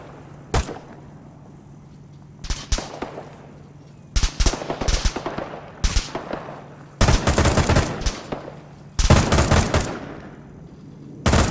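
Bursts of suppressing gunfire from Arma 3 infantry, rapid automatic volleys in several loud clusters separated by brief pauses, with scattered single shots between them.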